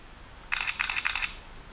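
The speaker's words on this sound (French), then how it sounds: "Je prends la photo avec la bague, j'appuie et vous allez voir" Canon PowerShot N compact camera firing its shutter through the lens ring, a rapid series of about four bright, crisp clicks close up in a quiet room.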